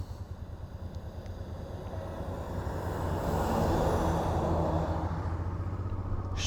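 A big truck's low engine rumble builds and swells as it passes close by on Norway's Atlantic Road, growing louder toward the middle and holding steady.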